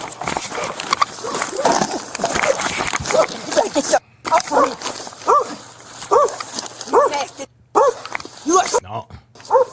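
A dog barks and whimpers in a rapid, repeated series of yelps close by, mixed with loud, overlapping speech and a steady low hum.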